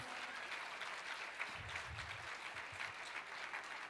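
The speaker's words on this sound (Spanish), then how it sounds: "Vamos a darle un fuerte aplauso al Señor." Church congregation applauding at a house of prayer anniversary service, a steady wash of clapping throughout at moderate level with low voices murmuring underneath.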